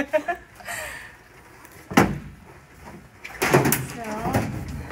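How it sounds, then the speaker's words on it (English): A light aircraft's baggage compartment door on a Cessna 180 thuds shut once, then there is scraping and rattling as it is handled again, with faint voices nearby. "there's the compartment door."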